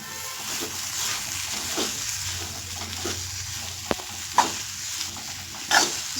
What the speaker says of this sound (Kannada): ಒಂದು ಸ್ವಲ್ಪ ಚೆನ್ನಾಗಿ ಮಿಕ್ಸ್ ಮಾಡೋಣ.